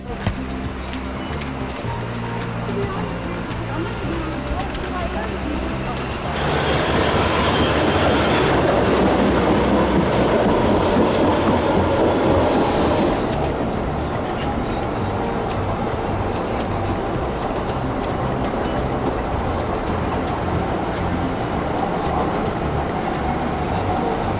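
A loud, continuous rumble and roar of a tram running on rails toward Harvard in the Boston area, swelling louder for a stretch in the middle, with no talking.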